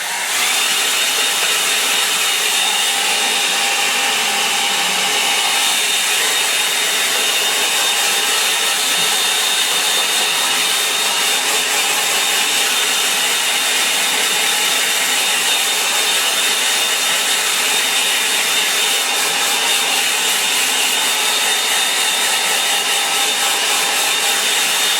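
Hair dryer blowing steadily over a burnt umber watercolour painting, a loud, unbroken airy whine that holds for the full stretch with no talking.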